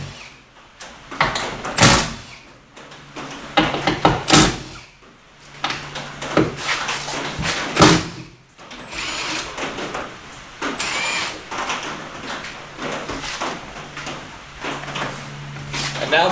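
Car door being unbolted and freed during removal, with scattered metallic clunks, knocks and tool clatter at uneven intervals, close by over a continuous workshop background.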